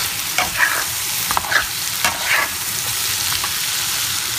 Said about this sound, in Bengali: মাছটাকে ভালো করে কষিয়ে নিয়েছি, একটু রেড কালার হওয়া পর্যন্ত এটাকে কষিয়ে নিলাম